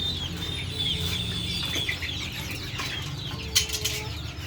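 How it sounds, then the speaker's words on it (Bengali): Light Brahma chickens and small chicks on a little farm cluck and peep, with high thin chick cheeps over low hen clucks and a brief flutter of wings. "খুব সুন্দর মুরগির বাচ্চা এখানে আছে পিচ্ছি পিচ্ছি মুরগির বাচ্চা"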